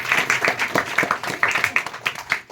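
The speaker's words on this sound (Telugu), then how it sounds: "కిట్టికి ఒకసారి క్లాప్స్ ఇవ్వండి" A congregation at a Telugu Christian gathering claps in a brisk, uneven patter of hands, steady and close, with a voice faintly underneath.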